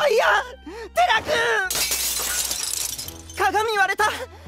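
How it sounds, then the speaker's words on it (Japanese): A mirror shattering in the video game Charisma, a bright burst of breaking glass that lasts over a second between stretches of animated talking and game music. "鏡割れた。"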